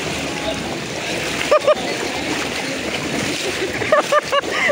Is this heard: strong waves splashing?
yes